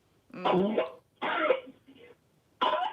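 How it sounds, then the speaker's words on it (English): Someone coughs three times in harsh, throaty bursts with short pauses between, close and fairly loud, the last cough sounding like a throat clearing. "who is that coughing?"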